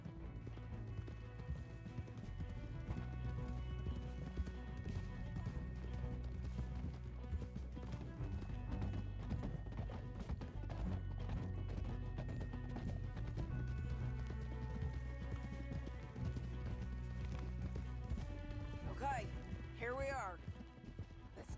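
Steady clip-clop of horses galloping over a dense, loud soundtrack of music and effects in the video game Red Dead Redemption 2, with a brief whinny near the end.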